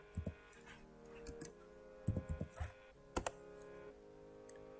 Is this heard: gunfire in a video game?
no